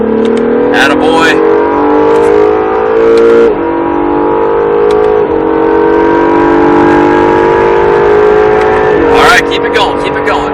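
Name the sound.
Acura NSX engine accelerating hard out of a corner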